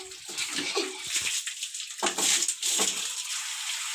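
Water from a shower splashing during bathing and shampooing, heard close as uneven hissing bursts that start and stop, with no speech over it.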